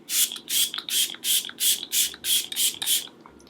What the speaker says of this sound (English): Let me just get a spray going so it doesn't spritz me